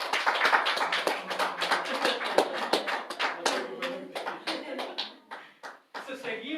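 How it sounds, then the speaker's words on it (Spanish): Church congregation applauding, a dense crowd of handclaps filling the space throughout with voices mixed in, swelling and fading slightly near the end. "Denle un aplauso al Señor."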